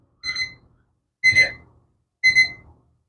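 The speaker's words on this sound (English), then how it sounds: "I hope the timer didn't turn itself off." Kitchen timer ringing in three short, bright electronic bursts about a second apart, loud and close against silence.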